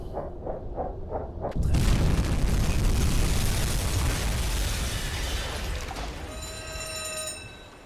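A torpedo slams into a ship in the UBOAT submarine game as a sudden loud blast, then a long rumbling roar slowly fades, with faint ringing, bell-like tones near the end.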